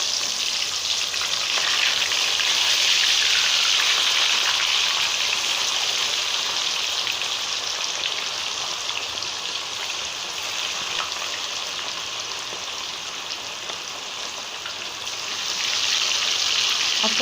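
Masala fish frying in hot oil, a loud, steady, rain-like crackling sizzle that swells and eases slightly over its length, close up with no talking.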